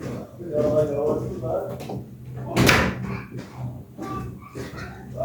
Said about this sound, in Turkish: ben bir kapıyı kapattım oğlumun sesi gelmesin diye